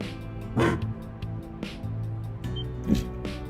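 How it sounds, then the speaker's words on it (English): Dog-like orbital drone in Trails Through Daybreak gives a few short barks, two stronger yaps standing out over a low steady game hum, close and fairly loud, with no talking. "Oh, it's just a dog."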